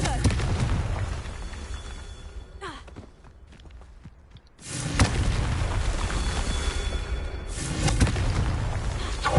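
Booming Confringo blast spells in Hogwarts Legacy, a fire-spell explosion erupting loud and close, then a dull quiet stretch before a second big burst of rumbling impact noise.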